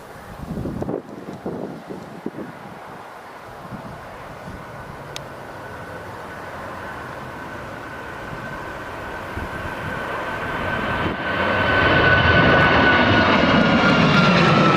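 An airliner departs from the runway at Newcastle International Airport, its engines swelling from a distant rumble into a loud, rising roar over the final seconds, with wind buffeting the microphone.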